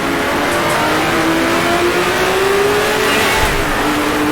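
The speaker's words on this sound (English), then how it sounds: "Right up to the top of the rev range before I throw it into third gear there" A 1967 Formula One car engine in the racing game Grand Prix Legends screams steadily up to the top of its rev range, the pitch climbing continuously in a loud, close, unbroken whine before the shift to third gear.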